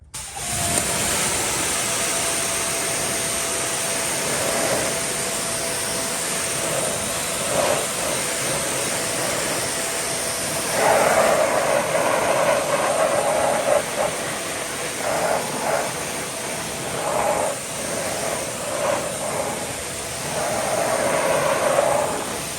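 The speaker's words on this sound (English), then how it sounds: "So let's do the 15-degree nozzle here, and let's rinse it off." A pressure washer fitted with a 15-degree nozzle rinses a car, giving a loud, continuous hissing roar that surges and dips in strength for about twenty seconds.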